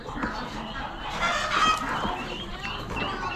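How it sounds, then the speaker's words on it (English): Roosters and hens in a mixed poultry lot at an Amish animal auction, crowing and clucking steadily amid a busy crowd, with nearby talk. "Another set of roosters, it looks like."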